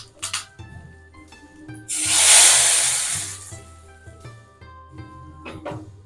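Mustard seeds, fenugreek and curry leaves dropped into hot sesame oil for tempering radish sambar, a burst of loud sizzling hiss that swells and fades, with scattered crackles and pops around it and a low hum underneath.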